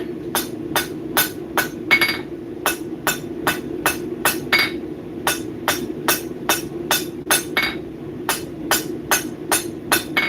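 A blacksmith hammers hot metal at the forge, striking in fast, regular, ringing blows with a few short pauses between runs. The hits are loud and close, and there is no talk.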